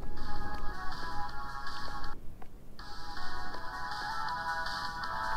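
A dropped phone rings inside the horror game The Closing Shift, a repeating electronic ringtone that pauses briefly and then resumes over a low rumbling ambience, with no talk.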